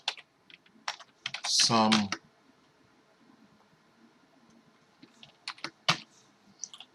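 Keystrokes on a computer keyboard during a spreadsheet sum, in scattered bursts of close clicks separated by quiet pauses, with a brief spoken word partway through.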